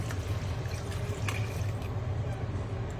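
Hot water poured into a cooking pan, a soft continuous splashing and trickling with a few faint drips, close and steady at low volume.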